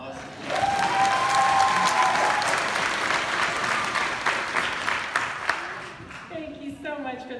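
A roomful of people at a graduation ceremony clapping steadily, fading out after several seconds as a voice begins speaking.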